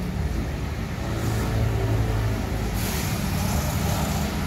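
A Sempati Star bus, just arrived from Jakarta, rumbles with a low, steady engine drone at an early-morning bus station. The noise is moderately loud and continuous, and the station hiss brightens partway through.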